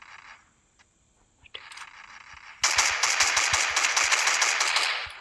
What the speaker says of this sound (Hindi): ओ गन से मार रहा है आपको।